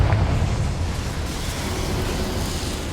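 A Confringo spell explosion in the Hogwarts Legacy video game, a loud, sustained rumbling blast that fills the whole moment and slowly settles without fading out.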